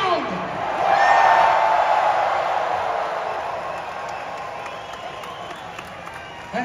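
A Toronto arena crowd at a WWE Smackdown event cheers and applauds, swelling loudly early then easing into a steady roar, with a voice talking over the noise.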